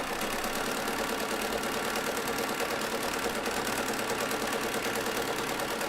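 A sewing machine stitches pieces of fat-quarter cotton fabric together, running as a steady, fast mechanical whir that holds at an even level with no pauses and no voices.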